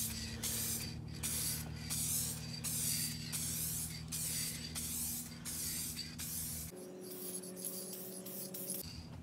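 An aerosol can sprays clear coat across a restored car headlight in a series of close, loud hissing bursts, then one longer continuous spray pass with a faint background hum.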